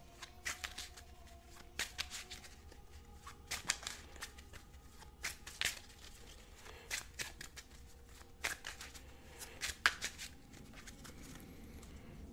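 Repeated riffle shuffles of a tarot card deck, close and crisp, come in short bursts spread across a quiet background.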